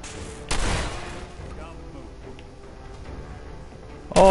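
Laser turret firing in the video game Fallout 4, a burst of rapid gunfire-like shots starting sharply and then trailing into a busy mix of game combat noise, with another loud burst at the very end.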